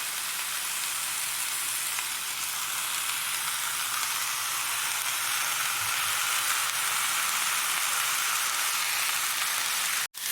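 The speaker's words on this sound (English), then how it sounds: "Now that this thing's getting all seared and we're about ready to put it in the pot." Corned beef sears in a hot pan with a steady, close sizzle and crackle of frying fat that holds constant throughout, broken by a brief sharp knock near the end.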